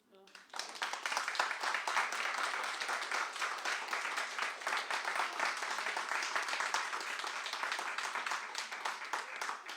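Sustained audience applause after an author's book reading: dense, even clapping that starts abruptly and holds steady at full strength for nearly ten seconds.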